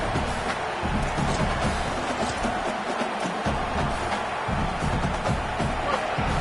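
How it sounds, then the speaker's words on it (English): Football stadium crowd at a Mississippi State vs Ole Miss game roaring to back its defense, a dense, sustained wall of cheering and noise that stays loud the whole time. "Listen to this crowd just shaking the girders of this place, trying to help their defense."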